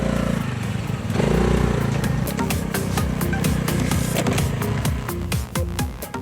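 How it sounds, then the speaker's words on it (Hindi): A Honda Navi scooter's small engine runs steadily with a buzzing drone and rhythmic pulsing ticks, close and loud throughout, rising slightly in intensity after the first second. "स्टार्ट होने की आवाज से लेकर इंजन की आवाज तक एक्टिवा की याद दिलाती है।"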